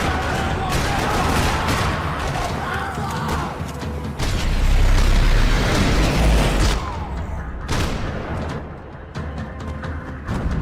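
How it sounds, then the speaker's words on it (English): Gunfire rattles through a parking lot in the video game Max Payne 3, with dense bursts of shots and booms layered over a loud, busy soundscape. "Another parking lot rattling with gunfire."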